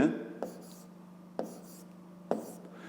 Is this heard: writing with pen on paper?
yes